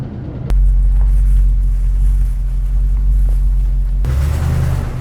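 Low-buck 600 horsepower big block engine running in a C10 squarebody truck, a loud close deep rumble that swells suddenly and holds steady, then shifts near the end, with no talking.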